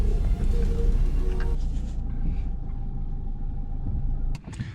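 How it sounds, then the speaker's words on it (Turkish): Cabin sound of a Nissan Juke with a 1.5 dCi diesel engine while driving, a steady low engine and road rumble that eases slightly partway through, with a brief clunk near the end. "Şu an hemen vites istiyor araba, hemen vites istiyor."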